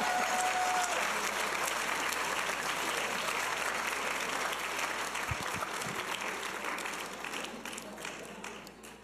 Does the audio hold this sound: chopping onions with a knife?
no